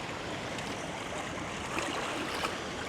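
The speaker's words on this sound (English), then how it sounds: "let's just slosh it around inside of here." A DJI Osmo Action 6 in a Telesin waterproof case is sloshed around in water, producing a continuous, close, dense churning and gurgling of water with small bubbly pops throughout.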